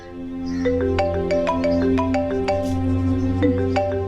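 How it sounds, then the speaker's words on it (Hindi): A phone ringtone for an incoming call plays a repeating melodic electronic tune over a steady low hum, loud and continuous with no talk. "भाभी किसी का फोन आ रहा है।"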